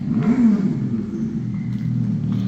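A new electric bike gives off a synthetic, game-like engine tone, one loud rising and falling sweep at the start and then a steady hum that holds close by.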